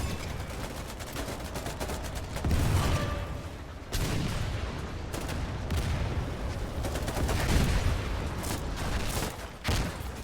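Heavy video-game gunfire during a fortress siege, continuous rattling shots and booming impacts layered into a loud, dense barrage with a few deeper thuds, no clear talking over it.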